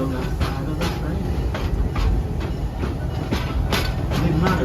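The Busch Gardens Tampa Serengeti Express train rolls along steadily, with a loud, continuous rumble and rhythmic clickety-clack wheel beats under faint talk from riders.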